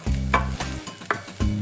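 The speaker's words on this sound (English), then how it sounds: "Now we add our onions and garlic." Onions and garlic sizzle in hot oil and get stirred in short scraping bursts, a steady close frying hiss broken by several quick stirring strokes, with no talking.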